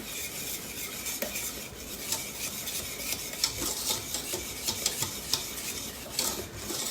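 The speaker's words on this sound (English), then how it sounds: "We're going to get them in here, get them mixed up good before we get too much liquid in it." Egg yolks are whisked in a bowl for a butter pecan custard pie, a quick continuous scraping and clinking of utensil against the bowl, close and steady throughout.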